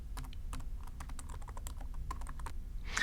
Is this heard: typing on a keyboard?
yes